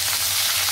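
Onions, ginger, garlic and green chillies fry in a pan for chicken kurma, giving a steady, close, loud sizzle with no talk.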